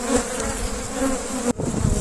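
Honeybees buzzing close by in a steady, dense drone that carries on without a break, with a brief dip and a soft rustle near the end and no voices.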